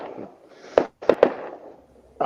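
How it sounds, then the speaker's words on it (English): Fireworks going off right outside a house: a few sharp nearby bangs and crackles in a quick cluster, with a muffled voice murmuring faintly between them. "there's fireworks right outside my house right now, if you hear noise"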